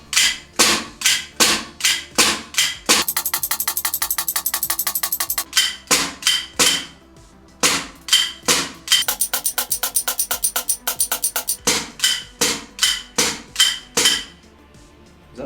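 A VFC SIG M17 gas blowback airsoft pistol fitted with an AMG hammer spring fires shot after shot in a steady rhythm of sharp metallic cracks, broken by two stretches of rapid ringing buzz, with no voices.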